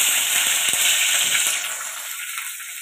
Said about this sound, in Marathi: आता मी हा बारीक चिरलेला कांदा घालते.